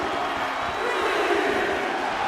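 Arena crowd cheering steadily through a WWE 2K25 Last Woman Standing wrestling match, a loud, continuous roar of many voices with some shouts rising out of it.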